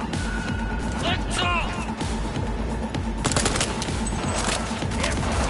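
Gunfire in Cyberpunk 2077, rapid bursts of shots mixed with game effects, loud and close, with a voice talking over it.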